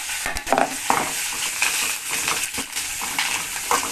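Chili and onion fry in a hot pan, giving a continuous close sizzle broken by scraping stirs and small clinks.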